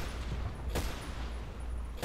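Gunfire in the Battlefield video game: a dull rumbling background with one sharp distant shot and a few softer pops, all fairly quiet.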